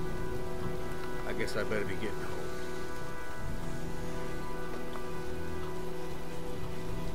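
Steady rain storm in the video game Heavy Rain, a constant hiss of rainfall with a low rumble underneath while a voice speaks briefly over it.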